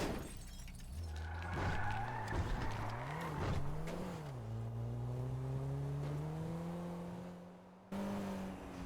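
A car in GTA RP slides out of control with oversteer: a loud, rising engine drone over several seconds with scraping, crashing bursts near the start, ending in a brief dip and a return of the engine.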